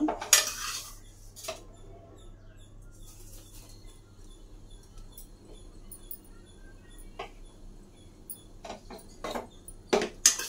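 Metal utensils clink and scrape against a pot of boiling milk with vermicelli for semiya payasam in scattered bursts, with quieter stirring between, and no talking.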